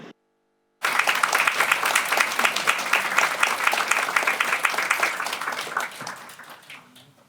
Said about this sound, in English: so thank you for your very polite applause for everybody after every single presentation